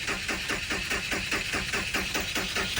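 A Volkswagen Vanagon engine cranks on its starter motor through an undersized main starter cable, giving a loud, close, rhythmic churning pulse that repeats steadily without catching.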